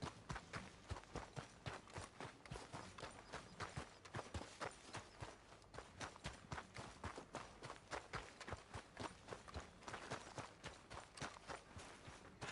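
Horse hooves clip-clop in a steady, quick rhythm in Red Dead Redemption 2, the game horse walking or trotting continuously at close range with no talk over it.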